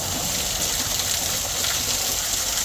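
A waterfall in Michigan's Upper Peninsula, with lighter flow than usual during a dry year, gives a steady, loud broadband rush of falling water heard close up with no voices.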